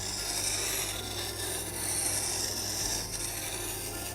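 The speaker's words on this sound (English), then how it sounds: "Then we're going to sharpen the bevel." Steady abrasive rasping of a woodworking chisel bevel worked back and forth on a sharpening stone, the strokes running continuously and close up with no pauses or voices.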